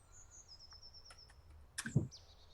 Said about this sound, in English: The sounds of a perfect night in the woods begin to play.